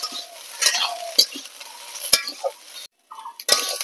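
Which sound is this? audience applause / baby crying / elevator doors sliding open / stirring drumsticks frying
stirring drumsticks frying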